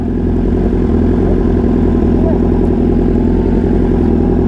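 A Yamaha N-Max scooter idles close by with a steady, loud engine hum and a faint rhythmic clatter, holding even throughout amid some background voices.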